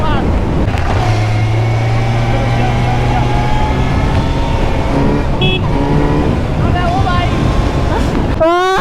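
A Kawasaki Z900 motorcycle accelerates hard on a mountain ride, its engine note rising steadily and loud close to the rider, with a voice talking over it and a sharp rising whine near the end.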